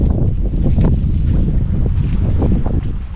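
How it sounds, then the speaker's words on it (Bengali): Cyclone-force wind at sea off the Andaman Islands, heard from a fishing boat as a loud, steady roar with constant gusty buffeting against the microphone and a low water wash underneath. No voices. "ওই বাইরের দিকে দেখুন হাওয়ার পরিমাণটা অনেক বেশি"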